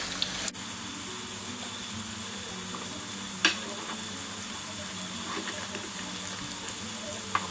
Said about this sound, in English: Shallow fry these about 2-3 minutes on each side.